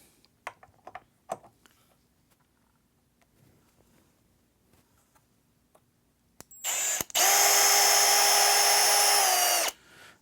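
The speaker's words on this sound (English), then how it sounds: "let's go ahead and remove some screws here" A power drill backs screws out of a DIY solar generator, with a few scattered clicks and taps before one loud, close whirring run lasting several seconds that rises slightly in pitch, then stops.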